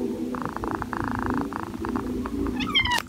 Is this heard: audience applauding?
no